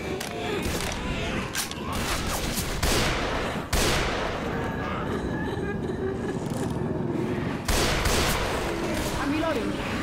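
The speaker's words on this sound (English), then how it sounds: "we've been shooting things for quite a while here" Sustained gunfire from the zombie shooter Left 4 Dead 2 on the Warcelona custom map, with dense overlapping shots, sharp loud cracks near the 3.7 and 7.7 second marks, and a steady roar of action throughout.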